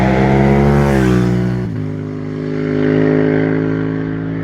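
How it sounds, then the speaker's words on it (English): A Yamaha R7 or MT-07 parallel-twin motorcycle engine revs up, peaks, then drops sharply before rising and falling again, a loud, close, throaty drone with strong harmonics and no talk. "It's the best sounding parallel twin on the market."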